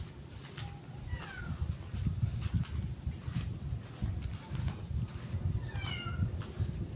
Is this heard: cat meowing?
yes